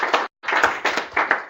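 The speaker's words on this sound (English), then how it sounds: "we'll have a big round of applause for Nia for a fantastic presentation" Audience applause after a presentation at a breakfast session, a short burst of clapping, a brief gap, then a sustained wash of many hands clapping at close range with no talk.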